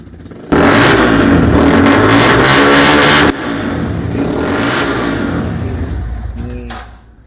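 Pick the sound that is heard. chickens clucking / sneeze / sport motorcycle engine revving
sport motorcycle engine revving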